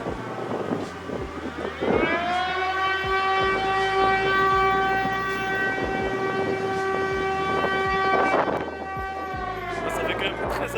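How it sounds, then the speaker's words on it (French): A warning siren wails out across a city street in Lille, a sustained rising and falling tone that holds steady for several seconds over traffic and ambient bustle, with people talking nearby. "cette sirène en pleine ville"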